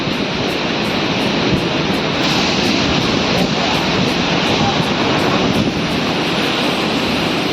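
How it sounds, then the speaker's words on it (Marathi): Rough, stormy sea on the Konkan coast in monsoon rain, its surf forming a loud, continuous broadband roar that stays steady throughout, with faint wind noise mixed in. "समुद्र एकदम खवळलेला आहे एकदम डेंजर खवळलेला आहे"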